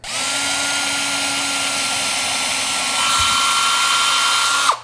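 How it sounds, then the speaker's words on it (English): A power drill runs steadily at high speed for several seconds, its pitch shifting slightly as it bites into a laminate board, then cuts off abruptly. "And I'm just going to be careful not to drill all the way through"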